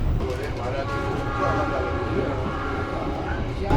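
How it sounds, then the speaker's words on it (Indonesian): Interior of a 1965 economy-class commuter train carriage numbered 23 with seating for 106, travelling between Probolinggo and Malang; a steady, loud rumbling ride noise with rail clatter runs throughout, and a voice speaks over it. "Merupakan kereta kelas ekonomi tahun 1965 nomor urut 23 dengan kapasitas 106 penumpang"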